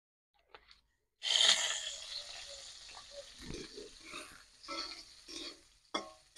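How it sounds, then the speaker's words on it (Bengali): Soaked soybean chunks drop into hot mustard oil in a wok and burst into a loud sizzle that slowly fades, broken by a few stirring clatters, with no speech. "সয়াবিনটা ভেজে নেব"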